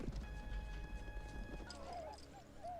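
Horse hooves clip-clop in a steady rhythm during a scene from the 1990 film Dances with Wolves, close and fairly loud beneath a music score, followed by a short whinny-like call.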